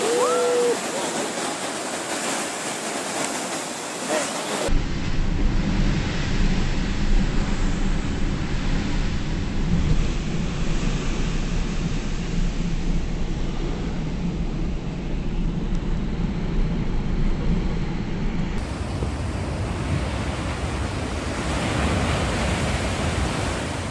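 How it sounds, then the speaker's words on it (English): Sea waves churning thick foam at a beach in Newcastle, Australia, make a continuous loud roaring wash, with a brief quieter stretch at the start. "Two girls enjoy the waves of sea foam at a beach in Newcastle, Australia."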